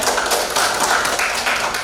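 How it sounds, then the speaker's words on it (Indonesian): Short burst of applause from a classroom group, dense overlapping claps that are fairly loud and close and carry on steadily for about two seconds. "boleh tepuk tangan ya"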